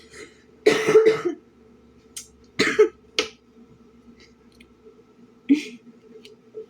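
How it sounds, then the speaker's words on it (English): A few muffled coughs and throat-clearing bursts, close and abrupt, separated by quiet pauses over a faint steady hum. "I'm holding in a cough"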